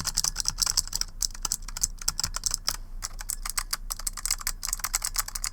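Rapid clacky keystrokes on a Razer Huntsman Elite mechanical gaming keyboard, close and crisp, in uneven bursts with brief pauses and no talking.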